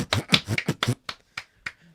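A handful of people clap at scattered times, sharp distinct claps starting in a quick cluster and then thinning to a few isolated claps with gaps between, close and dry.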